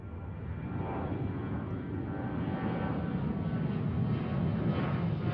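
A jet airliner takes off at Seattle's airport, its engines producing a sustained, broad, rumbling roar that holds steady and swells slightly over the few seconds.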